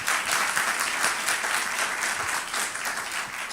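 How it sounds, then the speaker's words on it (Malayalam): A church congregation claps in appreciation for a ministry team during a sermon, a dense, steady round of applause from a room full of people, loud and sustained throughout. "അവർക്ക് ഒരു കൈയടി കൊടുക്കാം ആരെങ്കിലും."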